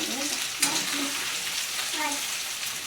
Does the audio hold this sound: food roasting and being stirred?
yes